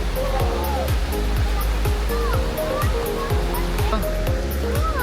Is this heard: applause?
no